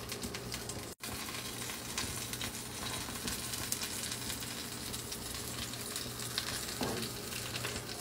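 Eggplant slices for begun bhaja fry in hot oil with a continuous, even sizzle that holds steady apart from a brief dropout near the start. The sizzle is fairly soft and close, with no talking.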